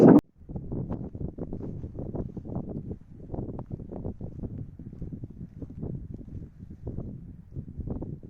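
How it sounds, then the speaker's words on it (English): Strong wind blows across open moorland on Dartmoor, a continuous low buffeting rumble against the microphone that surges in uneven gusts. A brief sharp click opens the sequence, and no one speaks. "I'm on Dartmoor and it's very windy."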